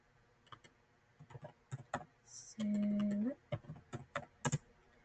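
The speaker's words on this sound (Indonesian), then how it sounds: "Di sini saya akan ketik select" Someone typing a database select query on a computer keyboard, with irregular nearby key clicks in short bursts. Partway through, a brief electronic tone sounds, and a voice speaks faintly in the background.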